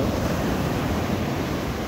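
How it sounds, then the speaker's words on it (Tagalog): Big ocean waves breaking on a beach where fishing boats land, a continuous loud roaring wash mixed with wind noise on the microphone. "Lalaki alon, lalaki ng alon"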